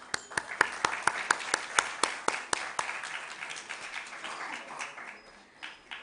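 Audience applause at a stock exchange listing ceremony for Unihealth Consultancy Limited, beginning with sharp, distinct claps that thin out into a softer, scattered patter and fade toward the end.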